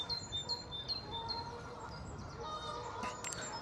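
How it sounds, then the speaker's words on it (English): Birds chirp and tweet repeatedly over steady wind noise outdoors by water in Tunstall and Victoria Park, a mix of short high calls near and far, with a louder burst of calls toward the end. "And listen to all the bird life."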